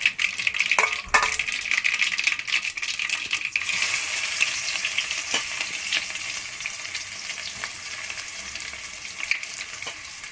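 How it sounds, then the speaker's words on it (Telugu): Cumin seeds sizzling and crackling in hot oil for a tempering, a steady broadband frying hiss with occasional sharp pops and stirring clinks, close and continuous without speech. "జీలకర్ర వేసి తిరగమాత వేసేస్తే బాగుంటుందండి"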